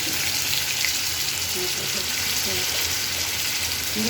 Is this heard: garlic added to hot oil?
yes